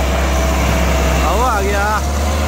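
A Massey Ferguson 385 tractor engine labours steadily under the strain of pulling a heavily loaded trolley, a loud continuous low rumble with a brief voice rising over it midway.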